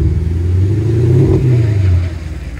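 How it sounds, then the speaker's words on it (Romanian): A car engine revs in neutral, a steady loud mid-pitched drone that swells slightly near the middle and eases off toward the end, close by with no talking. "Dă-i pe neutru un pic."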